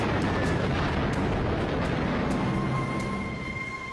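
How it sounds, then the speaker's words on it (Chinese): Bombs exploding during a US bomber raid on Tokyo near the Imperial Palace area, heard as a continuous loud, dense rumble of blasts and heavy low booms with a few sharper reports, steady and sustained throughout. "美军轰炸机飞抵东京上空，向这座城市靠近天皇皇宫的地区投下了炸弹。"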